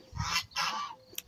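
Toulouse geese give two loud, harsh honks close by, followed by a shorter squawk, in a bird-breeding setting with no talk.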